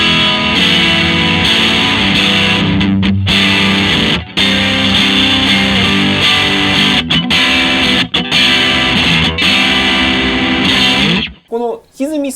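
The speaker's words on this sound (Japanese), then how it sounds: "2代目マグですけれども、これ比較的ハイゲインのやつ" Played through a high-gain, hand-wired distortion pedal, an electric guitar churns out loud, saturated chords almost without a break. Short gaps split the strumming, and the sound breaks off near the end with a few bent notes.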